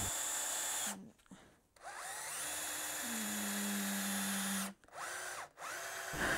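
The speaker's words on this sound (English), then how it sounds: "Drill the holes, I'm just going in at an angle, and then as I've got a bit of depth, I can bring the drill up straight." Power drill boring angled holes into wood for a desk organizer: a whirring motor whine rises and falls in pitch as it bites, with a couple of brief pauses between bursts, close and clear.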